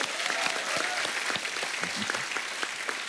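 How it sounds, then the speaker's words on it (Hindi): Studio audience applause on a TV comedy talk show, a steady, dense burst of clapping at moderate volume lasting a few seconds, with no talk over it. "इस बात पे भी तालियां बनती हैं।"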